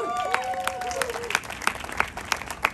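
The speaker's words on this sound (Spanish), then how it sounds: "¡Aplausos!" A television studio audience breaks into applause welcoming singer-actor Pedro Fernández with the cast of 'Malverde: El Santo Patrón', the clapping spread out and mid-distance, with a voice speaking over the start and sharp individual claps standing out.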